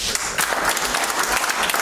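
A church congregation claps their hands in praise, a short burst of dense, lively clapping from many people at once.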